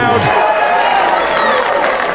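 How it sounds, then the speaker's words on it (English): An arena crowd at the 2020 Darts World Championship semi-final between Mitchell and Warren roars after a 180 maximum, a dense, loud wash of cheering that holds steady through the short moment. "And the reactions there from the crowd."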